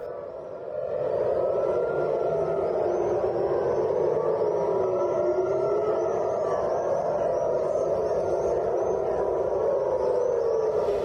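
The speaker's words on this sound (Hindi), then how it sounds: "दोनों देशों के शहरों में लगातार सायरन बज रहे हैं।" Air raid sirens sound across a city during the Iran-Israel war: one loud, sustained wail that slowly rises and falls in pitch, continuing without a break after a brief quiet start.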